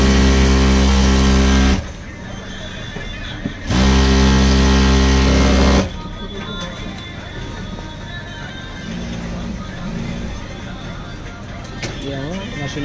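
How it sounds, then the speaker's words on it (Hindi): A Juki industrial sewing machine runs a test seam after its hook and plate are refitted, giving loud steady motor whirring in two bursts, then quieter intermittent stitching clatter and light mechanical noises. "अब हम इसका सिलाई चेक करेंगे।"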